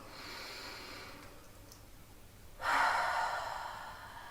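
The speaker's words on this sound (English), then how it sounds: "just take a nice slow deep breath in and a slow deep breath out" Slow, deep yoga breathing, with a soft, drawn-out inhale followed by a louder, airy exhale. The breath is close and alone, with no talking over it.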